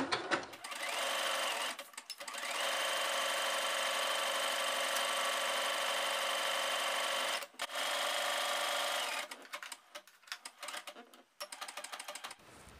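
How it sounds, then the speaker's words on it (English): Sewing machine running a lightning stitch along a knit fabric band, a loud continuous whirring drone with a few short pauses and stop-start bursts near the end. "We will use the lightning stitch, which is stitch number 4, again to sew this band."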